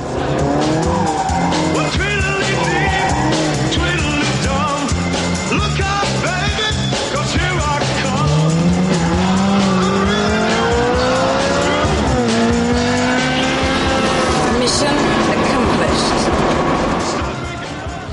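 A Ferrari 360 engine revving hard as tires squeal and skid in long sliding screeches, loud and close, continuing throughout.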